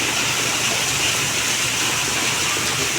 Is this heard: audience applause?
no